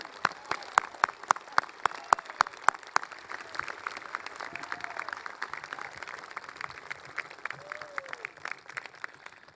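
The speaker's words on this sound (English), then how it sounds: "Let's give them a round of applause." Audience at a Veterans Day observance at the Vietnam Veterans Memorial applauding Vietnam veterans of the 2nd of 7th Cavalry, a sustained crowd of sharp, dense claps that ring out steadily with faint background voices.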